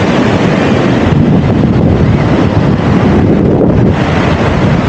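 Wind buffets the microphone in a constant loud roar over sea waves breaking on a North Coast beach, a dense, unbroken wash of surf and gusts with no voices.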